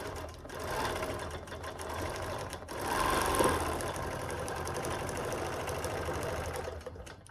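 A domestic sewing machine with a wide-lipped ruler foot runs steadily, stitching a redwork lace quilt against a quilting ruler; a continuous close-up motor whir and needle chatter, with a brief pause near the middle.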